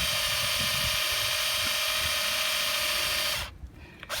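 A cordless drill bores a tap hole about an inch into a maple tree, a loud, steady whirring drone running close for about three and a half seconds before stopping abruptly, with no talking.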